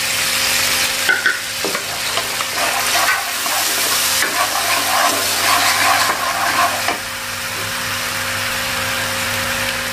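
Chicken stir-fried with oyster sauce and soy sauce sizzles steadily in a hot pan, with close scraping and clinking of a spatula stirring in irregular bursts and no talking.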